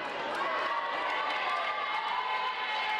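At a women's volleyball match, the crowd rises to its feet and cheers after a big point, a sustained roar of voices that fills the hall with a faint voice talking over it.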